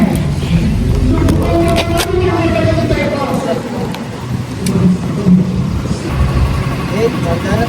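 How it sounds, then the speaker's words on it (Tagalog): A boat motor runs steadily and loudly close by, revving slightly, while people talk over the noise. "Pinaandar yung bangka."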